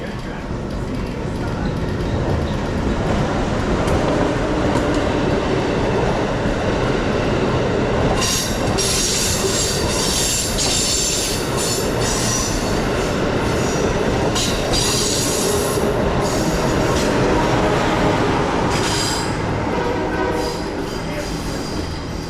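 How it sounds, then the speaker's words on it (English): An Amtrak Acela train coasts past on the track at close range, a continuous rumbling roar of wheels and cars with bursts of high squeal and clatter through the middle, along with some talk. "The first was Acela 2252 coasting by on track number 1."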